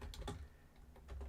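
Several quick keystrokes on a computer keyboard, quiet and close, clicking in an uneven burst over a little more than a second.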